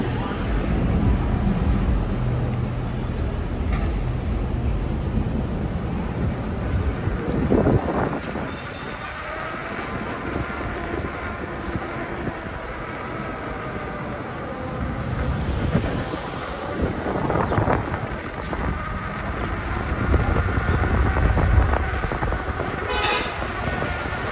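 Wind buffets the microphone in heavy, rumbling gusts that swell and ease throughout, drowning out any quieter sounds.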